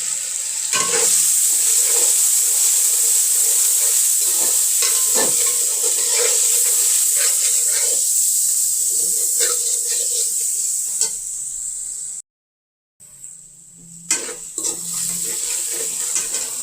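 Rice masala with chilli, ground coriander, garam masala and salt sizzles and bubbles loudly in a pot as a little water goes in, steady frying hiss with stirring scrapes and a brief pause.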